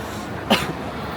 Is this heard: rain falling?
no